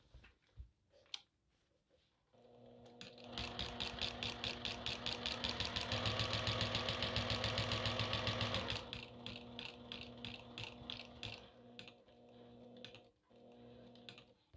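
A sewing machine quilting with a walking foot runs in a steady, rapid mechanical stitching rhythm for several seconds, slowing into separate chunky stitches near the end, close and clear with no talking.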